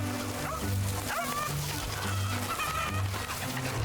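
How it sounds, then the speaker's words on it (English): A dog barks in a hand-drawn platformer game, short yips repeating over a steady looping game music bed with some splashy water-like effects. "Wait, is that the dog I'm looking for?"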